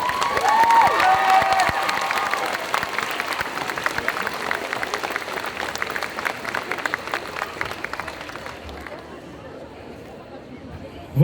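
Crowd applause and cheering at a group cosplay contest, loud and dense from the start, staying steady through the middle and then thinning out toward the end.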